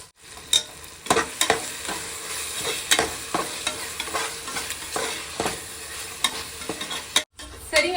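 Tomato masala with curd being stirred in a hot pan for mushroom biryani, repeated spoon scrapes and knocks over a steady sizzle, loud and close.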